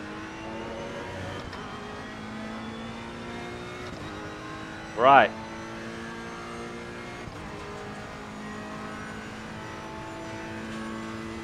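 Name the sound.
car accelerating after releasing brakes, likely racing game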